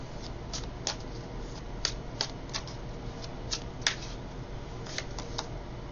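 Tarot cards being shuffled and drawn by hand, heard as soft papery riffles and a few sharp snaps and taps over a low steady background hum, close and fairly quiet.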